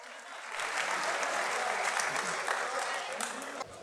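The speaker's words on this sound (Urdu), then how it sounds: "بھرپور تالیوں میں استقبال کیجئے" At a Lahore mushaira poetry recital, the audience breaks into dense, full applause to welcome poet Kafeel Rana. It starts abruptly after a short silence and holds steady to the end, with a voice faintly present.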